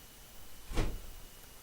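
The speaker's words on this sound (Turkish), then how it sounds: "babam kapıyı kapattı da onun sesi" A house door closes with a single muffled thud, brief and moderately near, against a quiet background.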